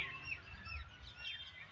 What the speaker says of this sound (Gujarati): અહીંયા પોપટ ને પોપટ ને બધું બોલે